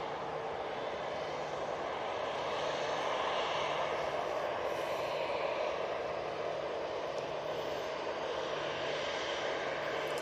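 An ATR 72 turboprop airliner touches down at Manchester Airport, producing a steady, fairly distant propeller and engine drone that sustains evenly with a faint low hum underneath.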